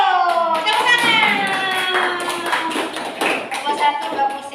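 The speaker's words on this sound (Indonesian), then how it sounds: "Tepuk tangan." Schoolchildren in a classroom clap their hands together in a lively, uneven burst, close and loud, mixed with children's voices and chatter throughout.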